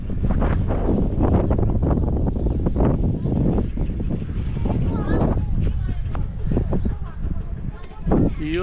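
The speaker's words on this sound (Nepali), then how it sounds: "हावा कडा लाग्छ फेरि यहाँ। हावाले उडाउला जस्तो" Strong wind gusts roar against the microphone around a small forest in a mountain village in Manang, loud and continuous with buffeting rushes, and someone speaks briefly under it.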